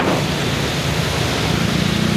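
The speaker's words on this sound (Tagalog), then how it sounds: "Yun, may ulan dito, lakas." Heavy rain pours steadily during a motorcycle ride in the city near Mandaluyong, a dense, loud broadband wash of rain and wind noise that stays constant throughout with no voices.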